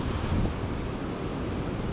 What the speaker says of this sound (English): The waves come in surges.